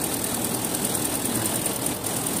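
A 2015 Land Rover 5.0L engine idles steadily with a faint, rapid clicking from its air valve running through the constant mechanical hum, close and even throughout, with no voices.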